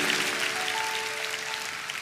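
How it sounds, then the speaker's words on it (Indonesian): A church congregation claps steadily and loudly for a couple of seconds, the applause dense and sustained with a faint tonal hum underneath. "Kasih tepuk tangan untuk Tuhan."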